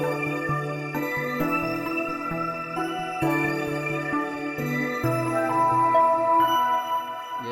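Melodic synth-style line built for a beat, soaked in reverb and delay, with sustained tones stepping through a tune and echoing tails, playing loud and alone without any voices.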